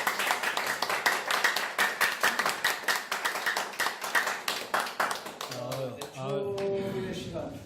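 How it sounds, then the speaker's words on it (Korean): A lecture audience claps for the lecturer, brisk rhythmic applause of many hands lasting several seconds, then fading as a voice begins speaking. "큰 박수 한번"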